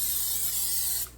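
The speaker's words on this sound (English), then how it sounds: "we are going to spray the frying pans" Cooking spray hisses onto a frying pan on a stovetop heated to medium for pancakes, a close, steady burst lasting about a second before cutting off.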